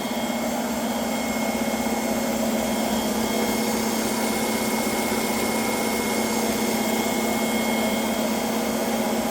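A Craftsman wood bandsaw set up for metal cutting runs steadily with a constant motor whine and a broadband whir, close and loud and unchanging, with no talking.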